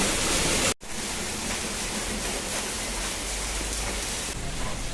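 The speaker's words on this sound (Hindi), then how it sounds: "और बस बारिश हो रही थी," Steady rain pouring down outdoors near house plants, a dense continuous hiss after a brief cut near the start, loud and even throughout with no voices.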